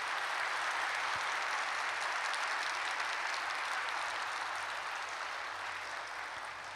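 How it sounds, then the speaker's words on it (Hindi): An audience at a spiritual yoga gathering claps loudly and steadily, a dense wash of many hands that continues throughout and fades slightly toward the end. "इसलिए एक बार जोरदार सभी तालियां बजाएंगे"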